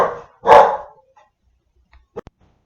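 A dog barks nearby in a quiet room, two loud barks close together followed by a few small faint knocks.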